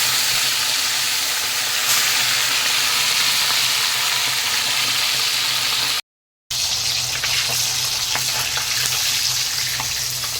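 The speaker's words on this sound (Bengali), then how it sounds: "এখন মাছগুলিকে ভেজে নেব প্রথমে" Fish sizzles and spits in hot oil in a wok, a loud, dense frying hiss that runs almost unbroken, with one brief cut of silence partway through.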